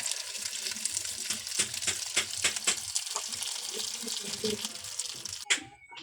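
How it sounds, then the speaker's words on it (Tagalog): Water pours into a small cooking pot holding two saba bananas, a close, fluttering splash that runs for several seconds before stopping abruptly, followed by a clatter. "Lagyan na natin guys ng tubig."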